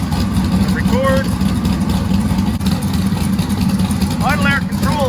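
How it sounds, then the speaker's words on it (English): A car engine idles steadily and fairly loud, a continuous low rumble that persists throughout while a voice speaks over it. "I do like the way it idles."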